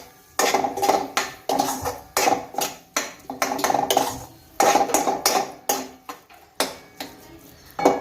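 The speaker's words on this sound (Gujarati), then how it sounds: "એને મેં હાથેથી મસળી નાખ્યું છે, અને હવે આને સરસ આ રીતના મિક્સ કરી દેવાનું છે" Crumbled homemade paneer is stirred in a pan for a dry bhurji, giving a run of close metallic scrapes and clinks from the spoon against the pan in uneven bursts, with no talking.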